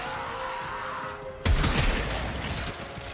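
Gunfire in Warframe, a sudden loud burst of rapid shots breaking in after a quieter stretch, followed by continued crackling fire and mechanical clatter.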